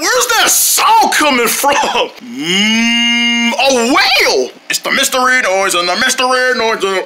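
A cow moos loudly in one long, drawn-out call that rises and then holds steady, set between stretches of excited talking in a kids' game of guessing a mystery noise.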